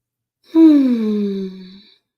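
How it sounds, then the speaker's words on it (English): A deep, audible breath taken during a guided EFT tapping and energy healing session, a single long voiced exhale lasting over a second, close and fairly loud, with no other sound around it. "Taking a nice deep breath."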